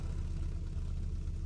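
Proton Saga car engine with a carburettor, idling with the ignition timing raised, giving a steady low, rhythmic idle rumble at close range, alone without talk.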